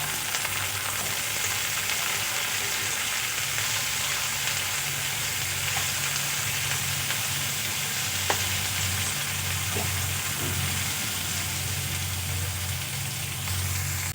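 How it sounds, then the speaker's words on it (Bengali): Cauliflower and beans fry together in a pan with a continuous, even sizzle, close and steady throughout, with faint occasional stirring. "ফুলকপি আর বিনসগুলো একসাথে ভালো করে ভেজে নেব।"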